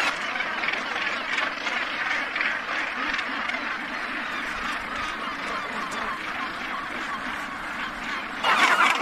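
Dense gannet colony on Bass Rock, a Scottish seabird site of some 150,000 birds, producing a continuous harsh chorus of overlapping raucous calls throughout, with a louder burst of nearby calling near the end.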